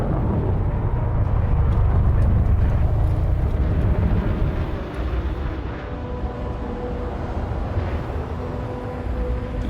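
Heavy thrusters of a large Imperial Cutter spaceship in Elite Dangerous: a loud, steady low rumble and roar that swells, then eases to a slightly quieter sustained drone.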